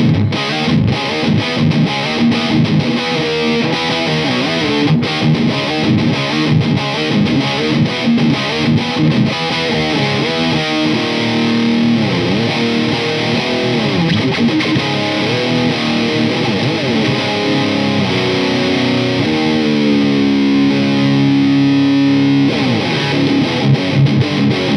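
Distorted electric guitar riff played through an Orange TH30 twin channel amp head: loud, thick, saturated tone with busy shifting notes and bends, sustained without a break for about twenty-five seconds.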